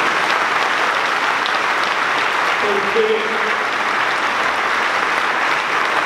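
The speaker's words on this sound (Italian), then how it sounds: "vorrei che arrivasse il secondo applauso per quello di Luisa per Carlo" Sustained applause from the crowd at a political thank-you gathering for voters at Superstudio in Milan, steady and dense for the whole stretch, with a faint voice briefly audible partway through.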